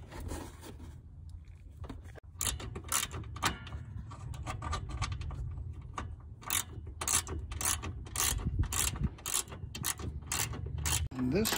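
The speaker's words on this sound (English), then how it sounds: "Make sure you have a small ratchet to get inside there, and just remove it." A small ratchet loosens bolts in a tight spot on a vehicle, making rapid, loud, close clicking bursts in repeated runs with short pauses between them.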